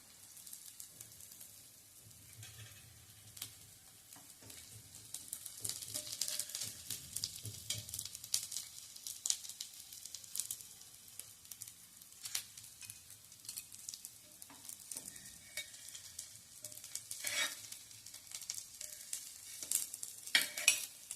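Vegetable cutlets shallow-frying in oil, a soft continuous sizzle and crackle that grows louder after a few seconds, with occasional light spatula scrapes as they brown on both sides; no voices.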